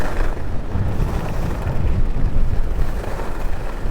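A cold northerly wind gusts across an open mountainside at a ski resort, buffeting the microphone as a steady, loud rushing roar with no voices.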